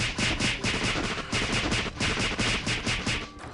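Rapid bursts of gunfire in a Thai online shooting game played while farming for rare bird drops, dense overlapping shots pulsing steadily and loudly throughout with no talk.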